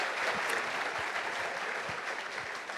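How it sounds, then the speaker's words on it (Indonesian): An audience at a talk show taping in a university hall applauds, giving a fairly faint, steady spatter of clapping with scattered louder claps, continuous for a few seconds and free of speech. "Tepuk tangan untuk kita semua."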